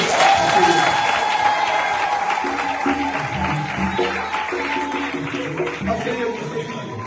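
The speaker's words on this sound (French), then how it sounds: "Est-ce qu'on peut acclamer pour le frère?" A church congregation at a wedding blessing applauds and cheers for the groom, a broad crowd roar of claps and voices that fades gradually, with a voice talking over it.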